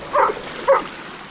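Two short dog barks about half a second apart, fairly close, over a faint steady background hiss.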